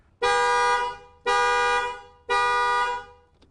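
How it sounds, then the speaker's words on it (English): Rover 200 Series Cabriolet alarm set off, blaring the car's horns in three long, loud honks of about a second each, separated by short pauses, close by with no talk. "the vehicle's horns would sound for 30 seconds"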